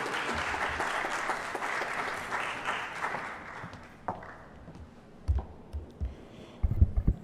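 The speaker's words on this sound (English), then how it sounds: "So if we could go ahead and give them a round of applause and welcome." An audience at a Juneteenth panel discussion applauds, a broad crackling wash of clapping that is strong at first, then thins into scattered claps and a few bumps and handling noises as it dies away.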